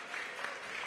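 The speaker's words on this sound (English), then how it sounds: "I want to give him a big round of applause" Brief applause breaks out from the crowd at an outdoor mayoral announcement in the South Bronx, a short, moderately loud patter of clapping.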